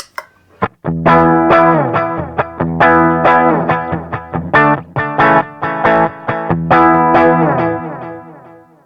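An electric guitar plays a riff through a Boss DD3 digital delay pedal, loud and distorted, with rhythmic chord stabs and short gaps filled by delay repeats.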